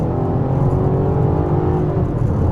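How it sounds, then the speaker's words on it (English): A Chevy, Buick or Cadillac engine, just after a transmission flush, rises in pitch under throttle, a loud steady drone heard from inside the car while driving. "Let's give her a little throttle."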